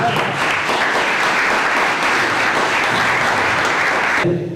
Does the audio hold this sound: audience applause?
yes